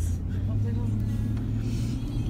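A car drives home, its continuous low engine and road hum steady throughout, with a person talking faintly over the cabin noise.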